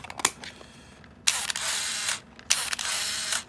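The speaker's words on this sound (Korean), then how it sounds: "이 카메라 같은 경우는 필름이 없어도 셔터를 누르면 안 움직이네?" A Canon AF35M autofocus film camera clicks as its shutter is pressed with no film loaded: sharp mechanical clicks, then two bursts of motor whirring lasting about a second each, close and alone.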